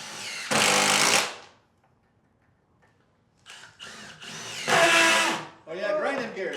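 Power drill driving screws during a timed contest, with two loud bursts of whirring separated by a quiet pause and then shorter, stuttering runs; voices talk around the drilling.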